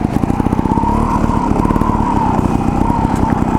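A Gas Gas TXT 280 trials motorcycle engine runs nearby with a steady, fast, buzzing putter that stays loud throughout, with no talk.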